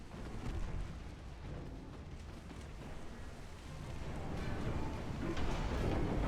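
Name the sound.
naval gunfire in Ultimate Admiral Dreadnoughts video game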